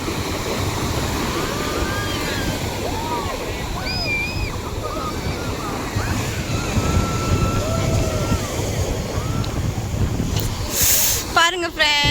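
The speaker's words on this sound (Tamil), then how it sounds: "அலை சூப்பரா வருது" Sea waves break and wash up the shore in a steady, loud surge with wind buffeting the microphone, and voices call out over the roar now and then.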